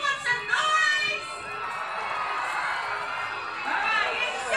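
A lively crowd cheers and shouts with children's voices at the Sydney Royal Easter Show in 2024, a steady loud roar of excitement that swells at the start and again near the end.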